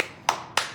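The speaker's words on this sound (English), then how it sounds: "Round of applause" Two sharp hand claps, spaced about a quarter second apart, close and fairly loud, with no voices.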